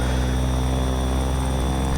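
Bell 412 helicopter in the X-Trident flight simulator, its engine and rotor giving a steady, dense drone with a constant high whine, loud and unbroken throughout.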